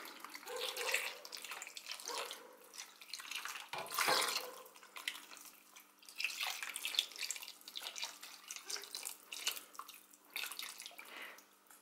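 Water is poured into a pan of stuffed peppers in a kitchen, making a close, splashing pour with a louder surge near the middle and quieter trickling before and after.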